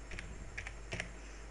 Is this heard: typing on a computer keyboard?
yes